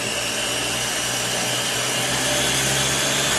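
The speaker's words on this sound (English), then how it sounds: "Gonna start to puree this." Blender whirring steadily at high speed as it purees a thick cauliflower and butternut squash cheese sauce with nutritional yeast, a loud continuous motor whine up close with no talking.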